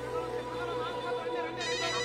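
A telephone rings steadily and fairly loudly throughout, with a muffled background murmur beneath the tone.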